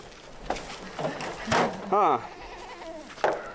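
Goats bleating in a farm pen at evening, kept with cows; one clear wavering bleat rises in the middle amid rustling and shuffling, with a faint second call shortly after.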